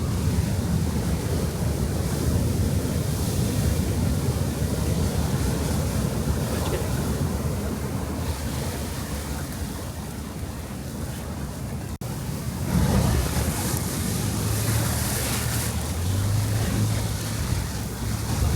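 Big winter swell surf crashing over a downtown Kona sea wall, a steady loud roar of breaking water with wind rumble and a heavier surge near the end.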